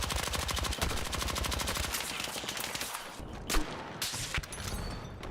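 Rapid automatic fire from a low-recoil PW5 submachine gun in a first-person shooter video game, a loud continuous burst followed by scattered shots and impacts.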